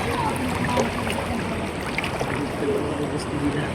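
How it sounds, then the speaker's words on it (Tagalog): A strong river current rushes steadily in a broad, continuous wash of flowing water at a summer swimming spot, loud and close throughout with faint voices underneath. "Ang lakas ng agos."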